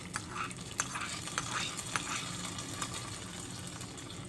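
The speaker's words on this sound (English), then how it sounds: "And now add this tempering on the top of the chutney." Hot tempering with curry leaves poured over fresh chutney for dosa and idli, giving a steady close crackling sizzle with small bursts of spattering throughout, no talking.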